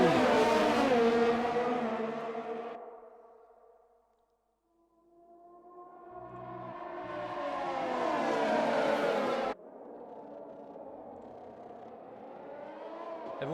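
Race cars at a Silverstone race start accelerate hard in a loud roaring pack, fading to a lull, then surging and rising again as more cars pass close, with a sharp cutoff into a steadier engine drone.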